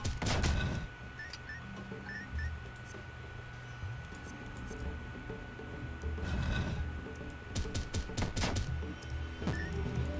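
Rapid gunfire from an AK-style weapon in the Dungreed video game, a dense burst of repeated shots over game music and effects, recurring in several flurries.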